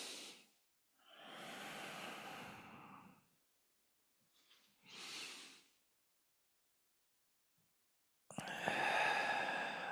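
Slow, deliberate breaths during a tai chi class, long exhales and inhales in separate bursts with pauses between, close and fairly soft, alone with no talk.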